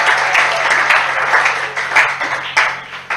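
A church congregation at a worship service applauds together, with a dense, loud wash of clapping that rises and falls with a few sharp claps standing out.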